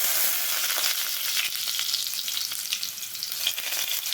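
Garlic and mustard seeds frying in hot oil for a Tamil snake gourd and moong dal stir-fry, a steady bright sizzle with scattered crackling pops throughout, close and loud, with no talking.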